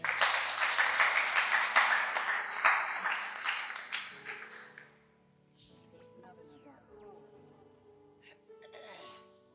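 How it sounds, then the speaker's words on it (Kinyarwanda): A church congregation applauds during a sermon, a dense, loud burst of clapping that fades after a few seconds into quiet sustained tones. "Iyo wari ubyumvise neza wari ukwiriye kwikomera amashyi."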